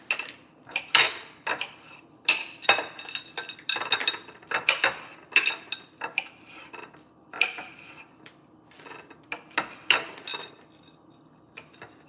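Knife dicing tomatoes into small squares on a cutting board: a steady series of crisp, close chopping taps in uneven bursts, no talk.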